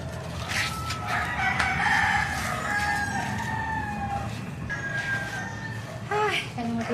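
A rooster crows loudly and repeatedly, its long calls ringing out over a background of clucking fowl while people talk nearby.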